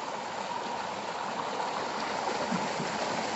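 Cold stream water rushes steadily from upstream, a continuous close hiss and gurgle with no pauses and no voices over it.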